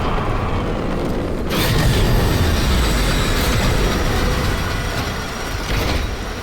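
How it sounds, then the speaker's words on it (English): A train arrives in the video game Warframe, a loud continuous rumble and metallic rolling with a heavy low-end swell, filling the scene with no talk. "The next train is arriving."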